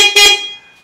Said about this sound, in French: Le klaxon, un vrai klaxon.